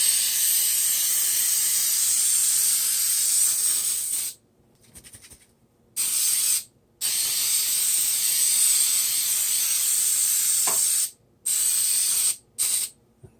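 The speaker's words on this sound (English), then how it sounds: "I went to Dollar Tree and I got coconut cooking spray." Coconut cooking spray from a can hisses onto a cut ripe avocado in several loud, sustained bursts, broken by short pauses and one longer gap, with no talking.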